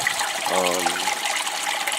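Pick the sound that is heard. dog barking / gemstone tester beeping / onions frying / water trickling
water trickling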